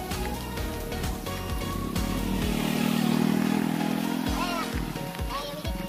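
A motorcycle engine hums and swells past nearby at a seaside spot, rising to a steady drone in the middle before fading, with people talking over and around it.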